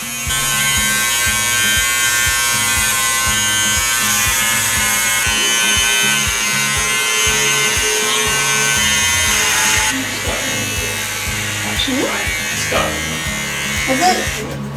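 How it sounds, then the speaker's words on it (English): An electric razor shaves a head with a steady, loud close-up buzz that runs throughout and shifts in pitch as it presses against the scalp, while people talk over it. "I might get to shave my head"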